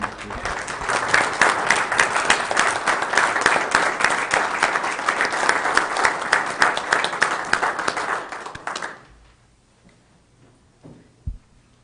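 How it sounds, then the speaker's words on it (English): Audience at a county commission meeting gives a standing round of applause for an honoree and his crew, dense steady clapping for about nine seconds before stopping abruptly, followed by near silence with a single faint knock. "let's stand and give Joe a round of applause and his crew"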